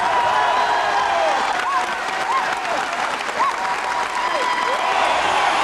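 Loud, dense applause fills the Royal Albert Hall, a continuous roar of many hands with faint cheers and whoops rising through it.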